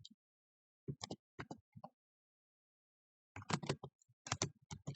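Tags typed on a computer keyboard in short scattered bursts: a few isolated key taps, a long silent gap, then a denser flurry of close, crisp clicks, quiet and without talk.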